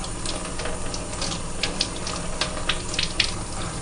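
Cold water runs steadily from a tap as BRF mushroom cakes are rinsed under it, a continuous close hiss and splash with small irregular spatters of water breaking over the cakes.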